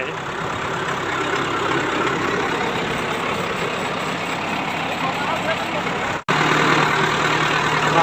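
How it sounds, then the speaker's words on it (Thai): A heavy tractor engine chugs and revs loudly and steadily, cuts out abruptly for a moment, then settles back into a lower rumbling idle. "เดี๋ยวไปเบิ้งรถไถก่อนนะครับ"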